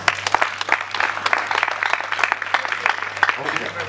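Applause greets the UPGI committee at a ceremony installing a student coordination body for Greater Kasai, with steady dense clapping throughout and voices mixed in.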